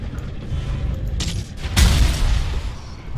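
Explosions in the video game BioShock 2 break out as loud bursts of broadband noise, with one booming blast near the middle followed by a sustained rumbling roar, set against steady in-game background noise.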